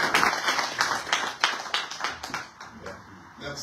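Brief applause with scattered claps rising and fading in a room, mixed with a speaking voice.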